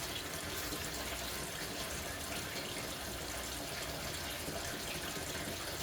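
Cold tap water runs steadily into a 55-gallon sugar syrup mixer, a continuous hissing rush with no break throughout.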